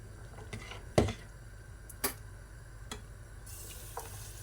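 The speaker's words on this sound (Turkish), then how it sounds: "Şimdi şu e, kavurduğum soğanları yemeğimin içine ilave ediyorum." Sautéed onions tipped into a sizzling pot dish cooked in vegetable oil and stirred in, giving a few sharp scraping knocks over a low, steady sizzle.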